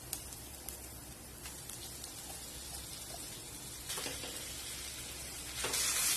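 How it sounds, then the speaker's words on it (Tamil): A ground meal maker (soya chunk) mixture sautéed in a pan for cutlets, giving a steady crackling sizzle that swells louder near the end, close with no talking. "இதையும் இதோட சேர்த்து நல்லா வதக்கி விடுங்க"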